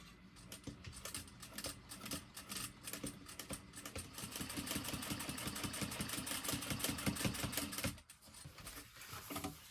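A sewing machine back stitches orange fabric for a bottle sling bag, running in a steady, close mechanical whir for about eight seconds before stopping.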